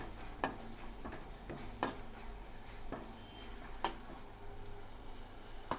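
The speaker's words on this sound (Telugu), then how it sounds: "వీటిని ఇప్పుడు బాగా మిక్స్ చేసుకోవాలి" Gobi manchurian mix with coriander and curry leaves sizzles faintly in a pan while a spoon stirs it, giving several sharp periodic clicks against the pan over a steady low hiss, with no talking.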